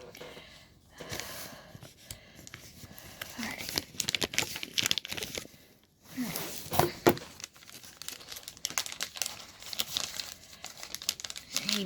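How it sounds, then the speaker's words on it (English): Plastic wrapping on a package crinkles and tears as it is worked open with scissors, in close, uneven rustling bursts with a brief pause midway, and some breathing is audible. "let me go ahead and get scissors to try to open this up"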